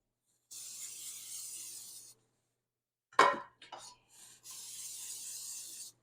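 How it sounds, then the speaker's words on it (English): Nonstick cooking spray hisses into cake pans in two steady bursts of about a second and a half each. Between them come a brief clatter of the pans being handled and a short rustle. "we are going to spray them really liberally"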